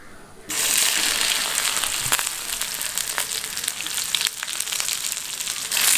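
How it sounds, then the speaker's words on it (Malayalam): Cut okra with dried red chillies and curry leaves drops into hot oil and bursts into a loud, dense sizzle that holds steady, with faint stirring clinks and no voices. "ഇതൊന്ന് വഴറ്റിയെടുക്കാം."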